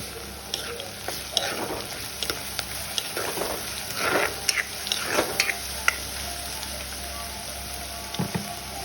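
Crushed ginger garlic paste frying in a pan with onions in a home kitchen, a close, crackling sizzle with bursts of spatter and stirring scrapes, no one talking.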